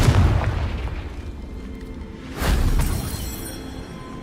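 A deep, rumbling magical blast from the Confringo explosion spell in the game Hogwarts Legacy, with two heavy booming swells that roll out and fade, loud and without speech.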